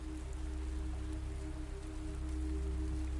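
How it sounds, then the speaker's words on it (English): Steady rain falling on leaves, a soft continuous hiss over a low constant hum, faint and even throughout. "The rain begins as it always does in Yangji, with a whisper against the leaves before building into something more insistent"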